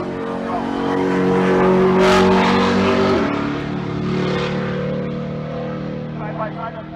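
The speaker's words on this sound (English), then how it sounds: "Dan Jenkins, the 71 model E-Body Challenger" Drag race cars, including a 1971 E-Body Challenger with a Gen 3 Hemi, launch with a loud sustained engine roar that swells and then fades as they pull away, under continuous announcer commentary.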